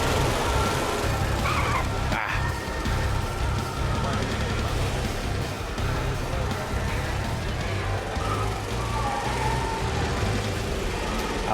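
Go-karts racing on an Italian-themed track in Planet Coaster: a continuous buzzing drone of small kart engines, with a few louder passes and a voice talking over it throughout.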